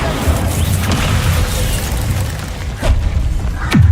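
Spell explosions from Bombarda and Confringo in the Hogwarts Legacy video game, heard as heavy booming blasts with a dense rumbling low end and a couple of sharp crashing impacts near the end, loud and close.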